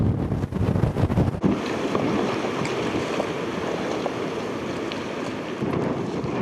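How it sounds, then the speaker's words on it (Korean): Strong wind buffets the microphone over rough, crashing sea waves off the Hebrides in Scotland, a constant loud roar with heavier gusts early on and no voices. "우려했던 대로 바람이 잦아들지 않아서"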